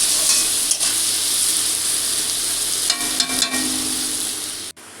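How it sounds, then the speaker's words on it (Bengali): Onions with salt frying in a pan for a mutton curry, a dense, loud, continuous sizzle with a few soft scrapes and knocks from stirring, ending in a clunk. "নুনটা দিয়ে আমি আরও একটু নাড়াচাড়া করে একটু ঢাকা দেবো।"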